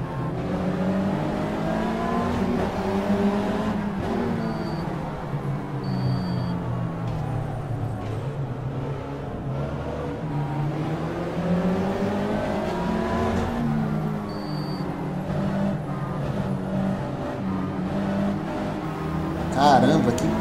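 A Mitsubishi stock car in Stock Car Extreme revs steadily, its engine note climbing and dropping through gear changes at the Velo Città circuit, with a voice talking over it.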